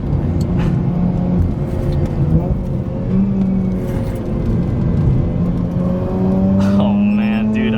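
Mazda RX-8 rotary engine revving up to 8,500 rpm, a loud, close, rising whine with steady tone lines climbing in pitch, and a voice talking over it.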